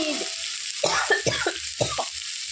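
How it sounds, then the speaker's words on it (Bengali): Spice masala sizzles in hot oil for a village-style Bengali tilapia fish curry, a steady close frying hiss broken by several distinct stirring scrapes. "মশলাটা ভাজা ভাজা হয়ে গেছে"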